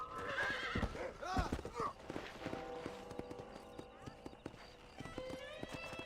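Horse neighing and hooves clip-clopping in the Red Dead Redemption video game, a loud whinny up front followed by steady galloping hoofbeats, with game sounds and some voices mixed in.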